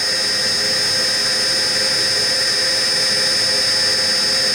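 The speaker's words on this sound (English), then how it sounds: "Once the wheel reaches its finish spot, it backs up slowly and then shuts down." A DCM IG 180 SD vertical spindle CNC rotary surface grinder backs its wheel off after reaching the finish point. It gives a loud, steady machine whine with a constant high tone that holds throughout, and no one speaks.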